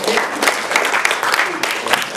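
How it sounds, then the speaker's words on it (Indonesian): Dense audience applause fills a government-institution staff gathering in Jakarta, a steady crackle of many hands clapping close by with some voices mixed in. "Tepuk tangan yang meriah"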